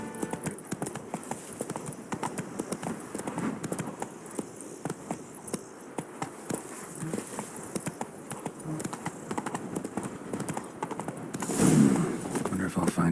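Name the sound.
Roach the horse's hooves trotting in The Witcher 3 video game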